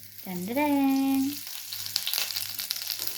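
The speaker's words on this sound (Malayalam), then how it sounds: "നമ്മുടെ കടുക് പൊട്ടിത്തെറിക്കാൻ തുടങ്ങി" Mustard seeds splutter in hot oil for a coconut egg curry. A short whining tone comes first, then a dense, close crackle of tiny pops and spatters, with no talking.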